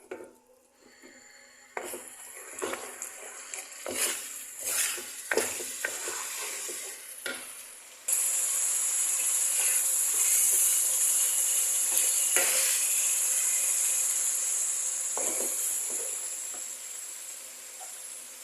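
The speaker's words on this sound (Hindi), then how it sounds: "अब हाई फ्लेम पे मैं 5 मिनट तक मज़ीद भूनूंगी चनों को।" Fresh green chickpeas with ginger garlic paste fry on high flame: first a spatula stirring and scraping in irregular strokes, then a loud, steady hissing sizzle that holds close and constant.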